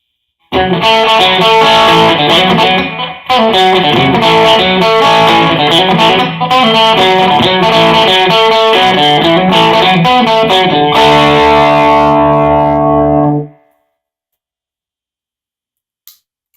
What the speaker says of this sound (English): Let's hear what this guitar sounds like with overdrive.